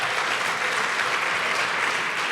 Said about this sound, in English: I think that deserves a round of applause for that